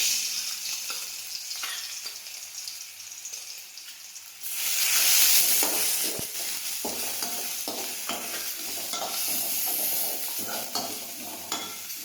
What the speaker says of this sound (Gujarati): હવે આપણું તેલ છે તે ગરમ થઈ ગયું છે. હવે આપણે તેમાં લસણની પેસ્ટ નાખીશું.